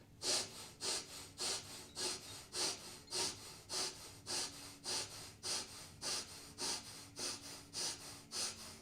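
Steady, rhythmic breaths held during a yoga pose, with about fifteen loud, close inhale-exhale cycles of even tempo and a rasping, airy texture, and no talking.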